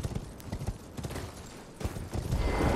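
Hoofbeats from the spectral steed Torrent in the video game Elden Ring, a quick galloping clip-clop rhythm of repeated thuds running steadily for a few seconds, with game ambience and a brief louder whoosh near the end.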